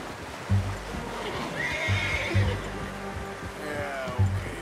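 A horse whinnies in Red Dead Redemption 2, a rising, drawn-out call over a steady low rumble, with heavy rhythmic thuds recurring in the background.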